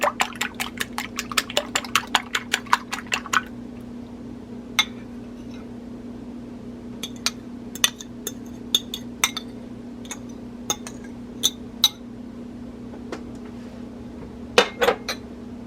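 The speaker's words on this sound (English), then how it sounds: "And the egg, just going to slightly whisk it." An egg is lightly whisked in a bowl, giving a rapid run of close, bright clinks at first, then sparser scattered taps against the bowl under a steady background hum.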